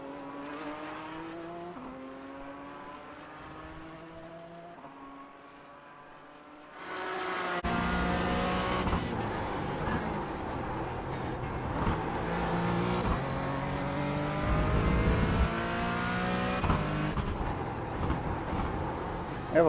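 Race car engines lapping Sebring in the iRacing simulator, starting as a steady higher-pitched whine that drops, then a louder full roar of revving engines rising and falling through gear changes, continuous throughout without talk.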